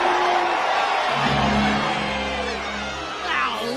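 A large crowd cheering and whooping at an outdoor announcement, a steady roar of many voices with louder shouts rising near the end.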